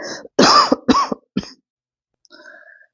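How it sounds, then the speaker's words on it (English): A burst of several harsh, loud coughs in quick succession, followed by a short pause and a quieter throat-clearing sound. "I had to get that coughing fit under control"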